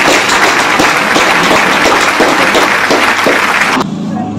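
An audience at an astrology gathering applauds, loud dense clapping that fills the clip and cuts off abruptly near the end.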